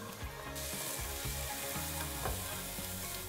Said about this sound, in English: add the onion and garlic to the pan and fry for about 5 minutes